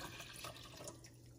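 Water pours into a pot to be heated with a cinnamon stick for guava atole, a soft, steady splashing trickle, faint and close, with no talking.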